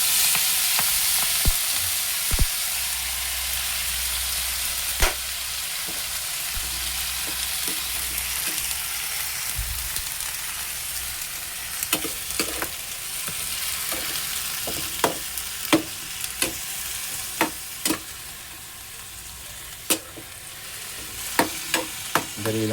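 Pechay being sautéed in a pan, a continuous close sizzle of frying greens punctuated by frequent sharp clinks and scrapes of a spatula stirring against the pan, with no talking.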